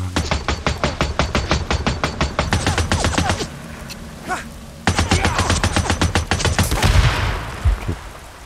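Loud, rapid machine-gun fire from the video game Days Gone, long rattling bursts of shots broken by a short pause.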